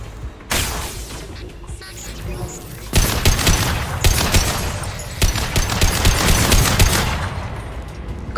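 Automatic gunfire from a Mass Effect fight comes in heavy, loud bursts. It starts once early, then returns in repeated volleys that grow denser and more continuous toward the end.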